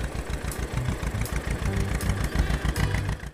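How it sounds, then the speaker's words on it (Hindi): A small motor drones steadily from a mini wooden toy tractor, a continuous buzzing hum with slight pulsing, close and moderately loud throughout, with no talk. "मिनी ट्रैक्टर मुर्गी वाला।"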